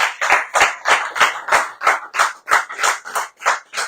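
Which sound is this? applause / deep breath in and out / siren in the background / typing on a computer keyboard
applause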